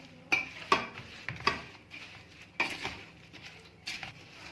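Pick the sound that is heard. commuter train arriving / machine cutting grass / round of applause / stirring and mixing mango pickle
stirring and mixing mango pickle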